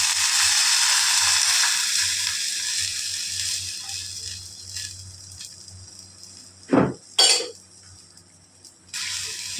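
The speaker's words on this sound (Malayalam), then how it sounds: "അപ്പം നമുക്ക് ഇതിലേക്ക് പച്ചവെള്ളം ഒഴിക്കുക." Water is poured into a hot pan of spinach seasoning, raising a loud, broad sizzling hiss that slowly fades, followed by a couple of short, sharp splashing or clattering bursts near the end.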